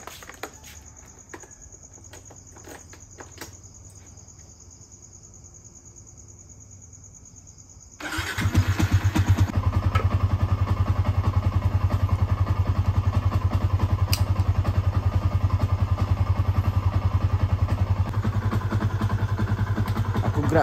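A motorcycle sits quiet beside faint insect chirping, then its engine suddenly starts and settles into a loud, steady idle that runs for about twelve seconds.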